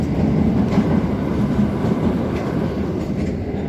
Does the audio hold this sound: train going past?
yes